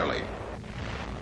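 A 1943 aerial bomb with loose fins and a VT proximity fuze bursting early before reaching the target, a heavy distant boom with a rumbling roar that fills the whole moment.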